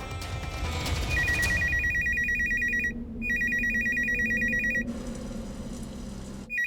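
A telephone bell rings in repeated bursts, loud and close, with short pauses between rings over a low background hum.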